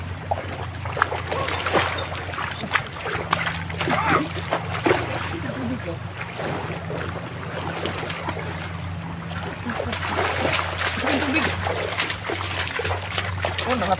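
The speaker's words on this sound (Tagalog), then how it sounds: "sobrang lakas ng tubig dito" Strong floodwater rushes past after flooding from the mountains, a loud, steady roar with splashing that runs the whole time, with voices now and then over it.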